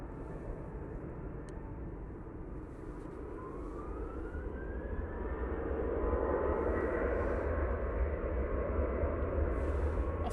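A Ryanair airliner departs Manchester Airport with a broad, distant jet roar that swells gradually, a faint rising engine whine running through it.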